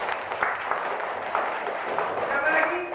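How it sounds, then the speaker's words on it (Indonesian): Students in a classroom clap together in a scattered, moderately loud burst that swells and fades, with a voice speaking over the clapping. "Ya, tepuk tangan dulu."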